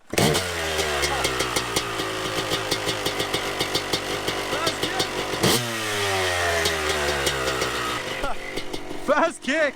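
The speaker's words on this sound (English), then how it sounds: "First kick! Ah, I love two strokes." A two-stroke motorcycle engine kicks into life on the first try, then idles and revs in a buzzing, crackly rhythm with a sharp throttle blip near the middle and a few rising revs at the end.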